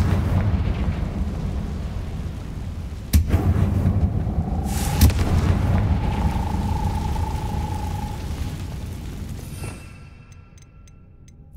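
A Confringo fire spell in Hogwarts Legacy bursts into loud, sharp explosions, two distinct blasts with a rumbling roar and crackling debris between them, then fading to a quieter tail.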